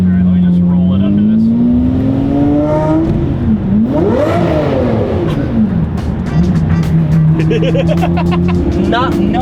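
Lamborghini Murcielago V12 engine rolling along under light throttle, loud and close, with rising and falling pitch sweeps as revs climb and drop through gears, steady drone between; people talk over it.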